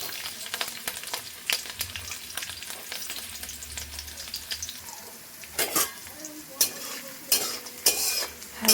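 Chopped garlic fries lightly in a pan, giving a low continuous sizzle with scattered spoon scrapes and clinks, which grow louder and more frequent toward the end.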